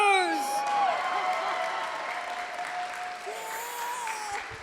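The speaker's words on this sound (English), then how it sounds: "let's give a round of applause to the bartenders!" Wedding reception guests at a farm venue clap for the bartenders, a lively burst of applause with a few cheers that stays full and steady, while musical tones ring behind it.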